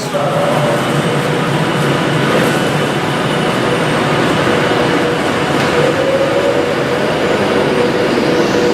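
A passenger train on the British railway near Stockport pulls away with a loud, continuous rumble and rolling wheel noise, steady throughout at close range.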